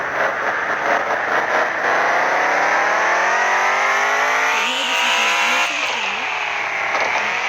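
A lifted dual-axle truck in the video game Offroad Outlaws revs its engine in a loud, continuous whine that climbs steadily in pitch, then wavers and dips briefly before rising again.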